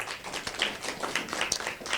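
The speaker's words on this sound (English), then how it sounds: "Let's give him a clap" Brief scattered clapping from a small audience applauding a speaker, a short soft patter of claps without much crowd swell.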